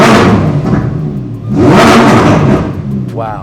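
A cold Lamborghini Performante engine firing up and revving hard, two rising, roaring surges close by, the second longer and fuller, with an excited voice cutting in at the end.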